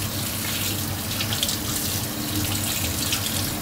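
A kitchen tap runs steadily while pork is washed under it, a continuous close splashing rush of water with no voices.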